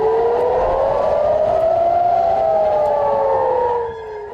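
A loud, wailing siren near Israel's northern border with Lebanon rises and falls steadily in pitch, sounding continuously throughout before easing slightly at the very end.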